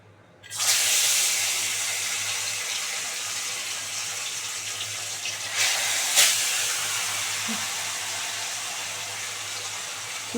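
Fish frying in hot white oil for a Bengali fish curry: a steady, bright sizzling hiss begins abruptly and holds at an even level throughout, with a couple of brief louder spits near the end.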